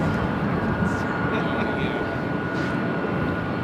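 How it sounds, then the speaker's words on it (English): Boeing 777-300ER taking off from the south side at LAX toward Tokyo Narita, a loud, continuous jet engine roar that holds steady throughout, broad and rumbling, with a faint whine riding above it. "777-300ER, heading back to Tokyo Narita, taking off there on the south side."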